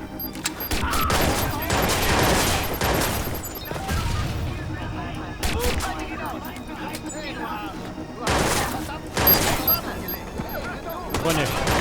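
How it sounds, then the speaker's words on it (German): Grenade blasts and bursts of gunfire in the video game Watch Dogs, repeated loud booms and rattling shots in several clusters, mixed with someone talking over the action. "Granate."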